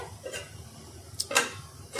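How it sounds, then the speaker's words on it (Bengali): A lid is set onto a cooking pot of boiled potatoes on a gas stove, giving a few brief metallic clinks and clatters over a quiet kitchen background. "এবারে বাস ঢাকনাটা দিয়ে"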